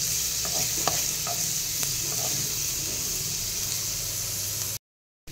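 Onion sautés in a pan for lemon coriander soup, with a loud, steady hissing sizzle and light stirring scrapes, before the sound cuts out abruptly near the end.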